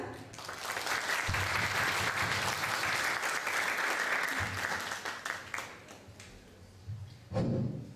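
An audience at a university book presentation gives a round of applause, many hands clapping steadily at moderate distance, tapering off near the end as a few scattered claps and a voice come through.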